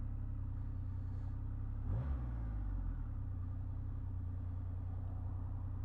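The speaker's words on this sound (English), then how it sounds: "So you press once, then press twice to prime, wait for it all to come on, thumb the starter." A 2023 Triumph Rocket 3R motorcycle engine cranks and fires up near the two-second mark, giving a quick rev, then settles into a deep, steady, close idle rumble with no talking.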